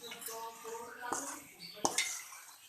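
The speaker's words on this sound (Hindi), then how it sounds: "पानी डाल के इसको मिक्स कर देंगे।" Gram flour batter is stirred with water in a bowl alongside chillies, salt, carom seeds, cumin and coriander for onion pakoras, giving close clinks and scrapes of a utensil against the dish, with two sharper knocks.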